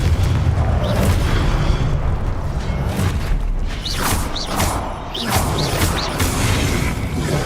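Explosive Confringo spells from Hogwarts Legacy blast repeatedly over a dense, rumbling combat soundscape, with several sharp whooshing bursts and booms close up and loud throughout.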